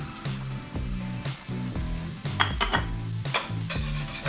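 Spices for Cincinnati chili tipped into a hot, sizzling pan, with steady frying hiss, scraping stirs and sharp clinks of utensil against metal over a rhythmic tonal background.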